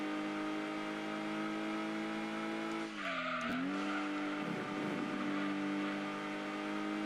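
A Mazda MX-5 Miata in Gran Turismo 2 holds a steady high engine drone, dips briefly as if shifting, then climbs again with a faint tire squeal, fairly quiet throughout.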